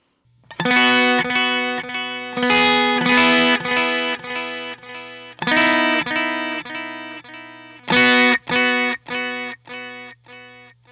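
Strummed Custom Shop Telecaster chords through a UAD Starlight echo pedal and Matchless amp, with echo repeats and a warm, slightly driven tone, played in short phrases over a constant low hum.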